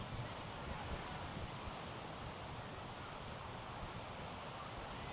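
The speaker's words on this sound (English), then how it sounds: "Wow, the waves are pretty big for Miami." Ocean waves roll onto Miami Beach in a steady, faint wash of surf mixed with wind buffeting the microphone, continuous with no distinct breaks.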